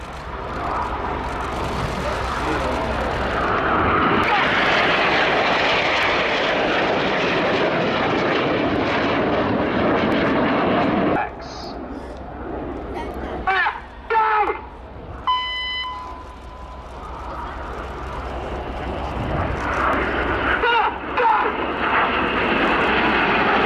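Jet engines of a display team's aircraft roar loudly and continuously at an airshow as the team rolls into the Jippo break, the noise dropping away briefly before building again.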